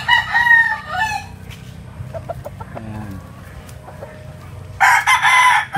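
A Sweater gamefowl rooster at a game farm crows loudly and close, one long crow at the start and another near the end, with quieter clucking and farm noise between.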